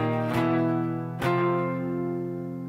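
Electric guitar in standard tuning strums a short three-chord progression from a song, two chord strikes ringing out and decaying, played alone.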